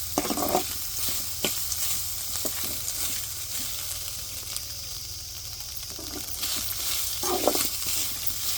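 Frying for a country-chicken (natu kodi) soup, browning in hot oil until golden, with a steady broadband sizzle throughout, punctuated by occasional louder crackles and stirring scrapes, no talk.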